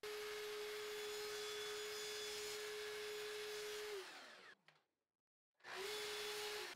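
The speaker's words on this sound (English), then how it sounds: "you can cut a nice little square cut on the miter saw there" A miter saw making a square cut through baseboard trim, a loud steady motor whine with broadband cutting noise lasting about four seconds, then spinning down to silence before the saw starts up again near the end.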